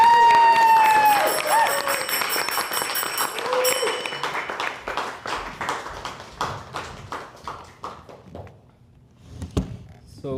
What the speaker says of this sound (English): A round of applause for Shrestha.